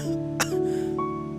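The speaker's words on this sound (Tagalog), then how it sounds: "At matapos ay nasundan ito ng pag-ubo ng magkakasunod." A man coughs in a quick burst, sharp and close, over a steady background hum.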